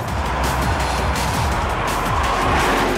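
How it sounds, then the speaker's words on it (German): Audi RS6 tuned by OCT, capable of 328 km/h, accelerating hard at high speed, a loud continuous engine drone with rising gear-change sweeps, heavy road and wind roar filling the cabin throughout. "Warm fahren heißt beim RS6 von OCT erstmal eine 300 aufs Parkett legen."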